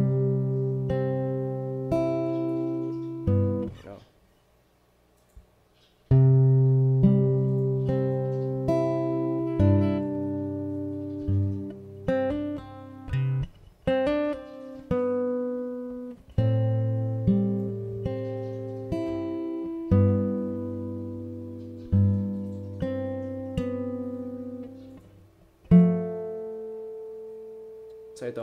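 Fingerstyle guitar plays the intro of a song slowly, with plucked melody notes over bass strings in a steady unhurried rhythm, close and clear, pausing briefly near the start.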